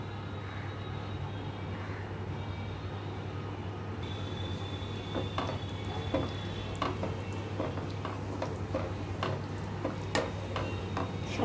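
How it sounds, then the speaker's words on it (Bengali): Ghugni cooks on in a pot, a low continuous bubbling hiss with a steady hum underneath and irregular soft ticks and pops growing busier in the second half, with no voices. "2-3 মিনিট এটাকে আমি এইভাবে আর একটু সেদ্ধ করে নেব।"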